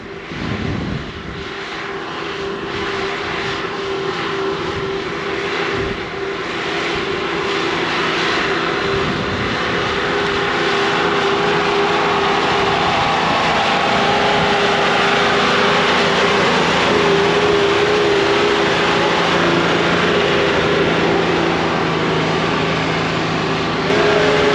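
A Toyota Troopy 4WD crawls off-road in first gear on tyres dropped to 8 psi, its engine a steady, droning rumble that swells gradually and holds continuous throughout, with no voices.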